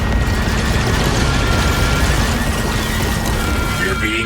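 A blaster turret in Star Wars Outlaws keeps firing amid explosions, producing a dense, loud, continuous barrage of booms and rumbling with no clear pauses.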